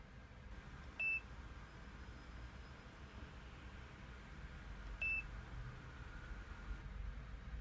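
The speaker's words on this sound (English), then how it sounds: "Release the button and wait for a while until you hear the beep sound" Two brief high-pitched electronic beeps from a VOCA IP camera after a reset, about four seconds apart, sound faintly over a steady background hiss.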